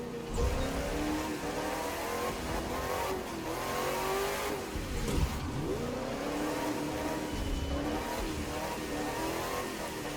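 A race car in a driving video game accelerates hard, its engine note rising and falling in steady revving sweeps with faint tire squeal, continuous and fairly loud throughout.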